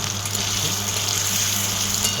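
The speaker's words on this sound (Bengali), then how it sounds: "এখানে ভালো করে আলুটা ভেজে নিচ্ছি" Potatoes frying in a pan give a continuous, even hiss of sizzling oil, steady and close with no talking over it.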